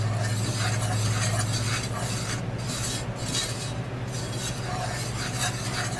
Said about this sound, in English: And then you keep stirring